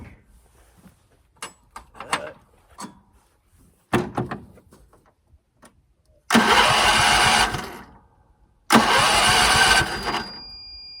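Clicks and clunks come first as a John Deere STX 38 lawn tractor is readied, then the engine cranks over in two loud, sustained bursts of starter churning, close by with no voices.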